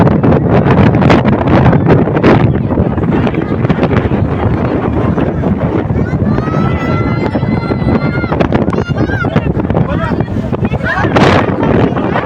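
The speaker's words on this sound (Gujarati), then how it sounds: "અહીંયા પવનનો અવાજ બહુ આવશે તમને" Strong seafront wind at Dumas Sea Face batters the microphone with a constant, loud, roaring rumble. A person speaks under the gusts.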